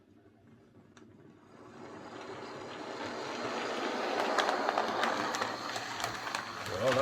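A Triang Class 31 diesel model locomotive runs along the track with a rising, rattling hum and light clicking that grows louder over several seconds.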